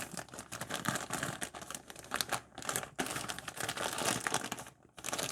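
Soft plastic bag being pulled off a SteelSeries Arctis Nova 5X wireless headset, continuous close crinkling and rustling with sharp crackles throughout, no speech.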